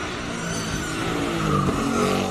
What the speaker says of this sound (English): Another Ford Mustang taking on the Speed Classic.